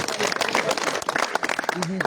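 Crowd applause at the final of a cricket league match, honouring a bowler who took three wickets in the last over; dense clapping runs throughout, with a voice talking over it near the end.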